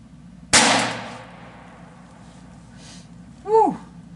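A single sharp crack from a 33 grain .22 Magnum round fired over a chronograph, loud and close with a short decaying tail, followed by a brief voiced exclamation.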